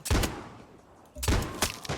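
Revolver shots in the video game Far Cry 6, a few sharp, loud cracks in quick succession, with a pause between the first shot and the closing pair.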